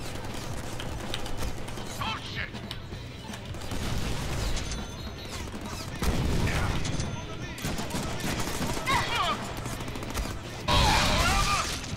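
Gunfire in the Deadpool video game comes as repeated bursts of shots and mechanical clatter among other in-game noise, with loud surges near the middle and the end.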